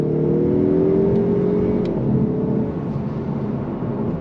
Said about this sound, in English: On throttle, here we go.